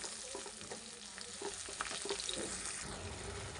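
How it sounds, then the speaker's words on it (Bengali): Ginger garlic paste sautés in a hot pan while a chicken rezala is being cooked, giving a steady close sizzle with scattered scraping stir strokes throughout, and no voices. "এবার আমি আদা রসুনের পেস্টটা দিয়ে দেব। দিয়ে খুব ভালো করে কষিয়ে নেব।"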